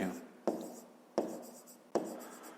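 Pen strokes on paper during a fifth-grade maths exercise, three sharp taps about every 0.7 seconds, each followed by a soft scratchy trail, close and fairly quiet.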